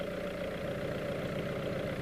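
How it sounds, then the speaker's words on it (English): A 1992 VW Golf 3 Ecomatic engine idles steadily, a faint, even low hum with a soft pulsing rhythm and no talking. "At walking speed, or when the car stops, the engine idles for 5 seconds before switching off."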